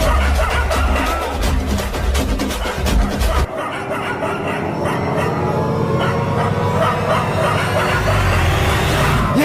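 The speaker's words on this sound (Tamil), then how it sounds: "இன்னொரு முறைய வீட்டு வாசல் வந்து குலைச்சிங்க" Several dogs bark and yip close by in a dense, noisy flurry, with whining mixed in and a rumbling background.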